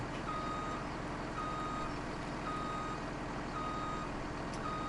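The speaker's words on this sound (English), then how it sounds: "I don't even know if this truck will fit in my garage." Reversing truck beeping steadily in a farming simulator game, a buddy's truck with smokestacks being parked in a driveway, the repeated beeps sounding over a constant engine rumble.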